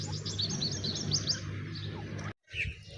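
A pair of grey francolins gives a run of sharp, repeated chirping calls over a low background hum, moderately close, with a brief dropout near the end.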